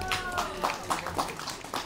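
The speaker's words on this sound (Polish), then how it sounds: "Wielkie brawa!" A crowd at an outdoor Epiphany Three Kings procession in the Cieszyn market square claps briefly in loose, rhythmic bursts, picked up from a distance at low volume.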